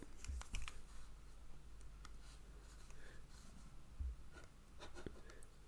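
Keys clatter on a computer keyboard as code for a Python blockchain project is typed, with irregular clusters of soft clicks running steadily under a low room hum, close and fairly quiet with no talking.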